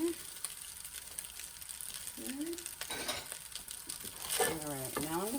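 Purple cabbage is added to a hot frying pan with salmon fried rice and sizzles steadily, with stirring rustles. A voice talks over the frying, which stays close and constant underneath.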